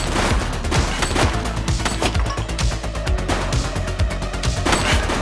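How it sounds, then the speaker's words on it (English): Dense, continuous gunfire in the police game The Precinct, rapid overlapping shots forming a loud fusillade with machine-gun bursts and sharp cracks throughout, close and unbroken. "Shots fired!"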